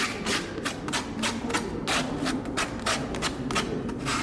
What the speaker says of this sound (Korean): 나무가 거칠한 부분이 있으니까 사포로 정리하는 과정이었습니다